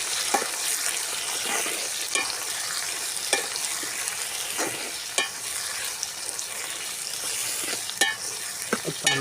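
Tomato and onion fry in a pan for a village-style vegetable curry, a continuous soft sizzle broken by sharp scraping taps of a spoon stirring against the pan, close and without speech.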